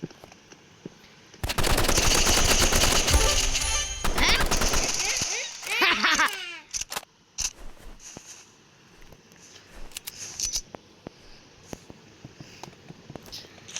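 Rapid automatic gunfire in the shooting video game Rivals, a loud sustained burst of a few seconds followed by scattered single shots, clicks and game effects, with a voice speaking at times.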